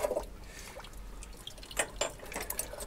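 Water draining from household plumbing during a repair job, quiet irregular drips and trickles over a soft low hum, no talking.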